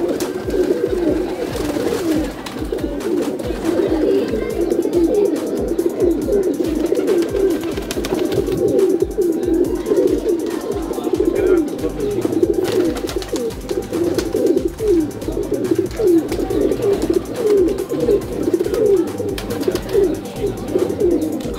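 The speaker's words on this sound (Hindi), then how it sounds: "तो अभी आपको दिखाते हैं इनके कबूतर" Many high-flying pigeons coo continuously close by in a loft, a steady layered murmur of low throaty calls with no talking.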